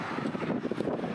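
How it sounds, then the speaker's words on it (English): Wind buffets a microphone outdoors at an EV charging station beside a 2024 Toyota bZ4X, a loud, continuous low rumbling roar with uneven gusty pulses and no other clear sound. "I'm trying to block the wind"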